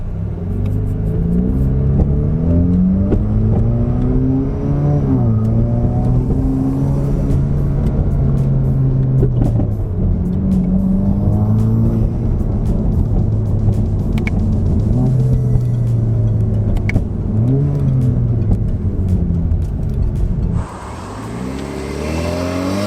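A car engine drones and revs as the vehicle drives around, pitch rising and falling with repeated acceleration and gear changes, heard from inside, loud and continuous.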